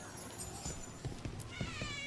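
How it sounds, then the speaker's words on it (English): A cat in the video game Dragon Age: The Veilguard gives a few soft, faint meows over a quiet ambient background, with light footstep-like taps mixed in. "Cat."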